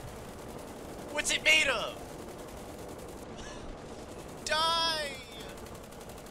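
Aircraft machine guns in the War Thunder video game rattle as a steady, fairly quiet mechanical stutter under the flight noise, while a player speaks excitedly twice over it.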